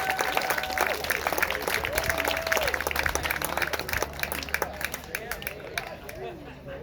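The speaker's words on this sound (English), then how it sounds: "let's give a big round of applause to Paul Hess here for putting this on" Audience applause for Paul Hess at a community political gathering, steady clapping filling the room with crowd murmur and voices talking over it.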